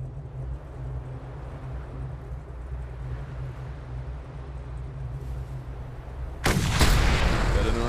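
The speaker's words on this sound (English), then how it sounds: "Time to put the sniper rifle to the test." Under a steady low engine drone in the Mad Max video game, a single loud sniper rifle shot cracks out near the end, followed by a brief echoing tail.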